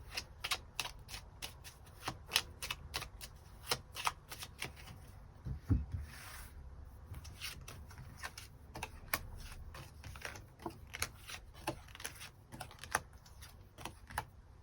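Tarot cards riffled and shuffled by hand before a weekly reading draw, a long run of crisp, rapid flicking bursts with short pauses between, close and clear with no talking.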